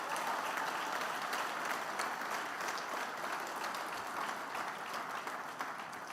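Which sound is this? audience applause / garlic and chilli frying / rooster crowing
audience applause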